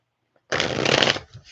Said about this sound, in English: That was some good shuffles.